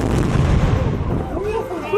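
A historic artillery gun fires at Fort Macon with a loud, rumbling boom that fills the clip, with low rolling noise and faint voices in the background.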